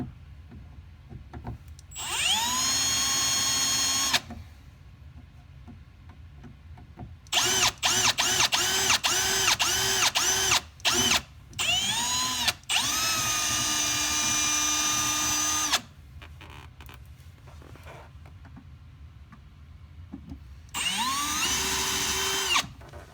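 A power drill drilling out fasteners on a 2004 Toyota Corolla whines in repeated bursts, some long steady runs and a quick series of short stutters, close and loud with quiet gaps between.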